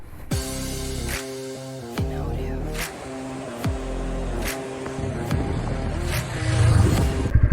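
A Bajaj Pulsar N150 motorcycle engine ridden on off-road and highway stretches, revving up repeatedly and dropping back between shifts with a steady droning tone and wind rush.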